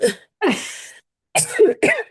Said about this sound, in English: just a minute, I'm going to cough.